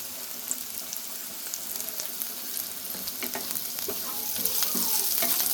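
Onions with crushed garlic and salt sautéing in a pan for a cluster bean stir-fry, steady crackling sizzle with repeated ladle scrapes and taps building slightly louder toward the end, close up and without speech.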